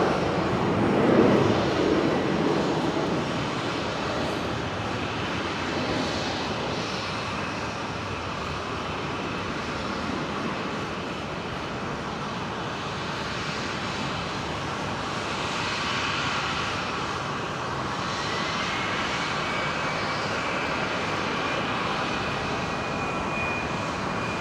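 A KC-135 military jet lands at Brisbane International Airport, its engine roar a steady, broad, moderately distant rush that holds for the whole stretch with no talk.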